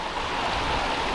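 A waterfall and stream flow as a steady, moderately loud rushing hiss, with no other sounds.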